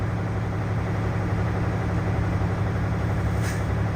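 A loud, steady truck engine rumble with a continuous air-brake compressor drone as it builds pressure toward cutout, unchanging throughout, with a faint brief hiss near the end.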